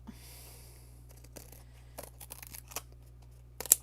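Scissors snip through craft material while cutting out a skull-and-crossbones bib, giving a few faint, scattered crisp cuts in a quiet room with a low steady hum.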